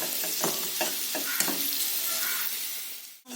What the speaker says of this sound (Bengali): আলুটা লাল লাল করে ভাজা হয়ে গেছে দেখতেই পাচ্ছি আমি এটাকে ভেজে নেবো